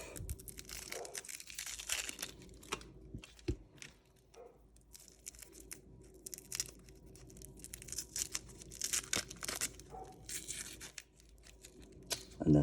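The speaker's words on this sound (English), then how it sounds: "And then I can just peel my outer layer off" An outer onion layer peeled off by hand in a kitchen, giving dry papery crinkles and tearing scratches in short irregular bursts, fairly close and quiet, with no talking.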